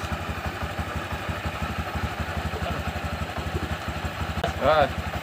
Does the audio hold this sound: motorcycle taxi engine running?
yes